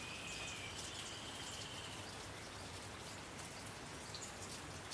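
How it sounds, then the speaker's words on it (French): Rain falls steadily in a dense, even hiss of drops on surfaces, with a faint bird chirp early on and no voices. "La pluie, quel bel esprit la pluie."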